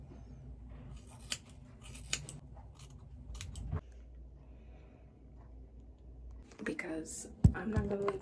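Scissors cutting hair close by in a quiet room, heard as a handful of soft, sparse snips spread across several seconds, with a faint hum underneath and a cluster of louder clicks and rustling near the end.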